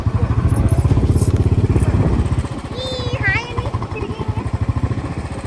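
Motorcycle riding past during an outdoor film shoot, its engine thrumming loud and close for the first two seconds and then easing to a steady running hum with talking over it.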